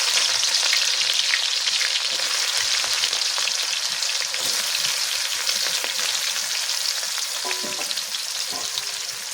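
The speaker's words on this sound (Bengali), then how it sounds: "তেলটা আমার গরম হয়ে গেছে, এখন দিয়ে দিতেছি পেঁয়াজ কুচি আর মরিচ কুচি একসাথে।" Chopped onion and green chili hit hot soybean oil in a pan, giving a loud, dense sizzle that stays constant. A few light stirring clinks sound near the end, with no voice.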